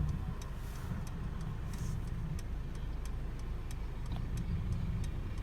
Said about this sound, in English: It also turns on your turn signal to tell whoever's behind you